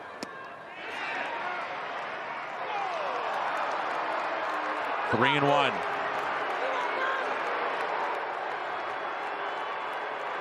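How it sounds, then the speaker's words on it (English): Baseball crowd at an Arizona stadium during a Cardinals vs Diamondbacks game, a steady murmur of many voices in the distance, with a play-by-play announcer talking over it and a brief tonal horn or whistle midway. "The way it sounds in Arizona, it almost sounds like a home crowd for the Cardinals"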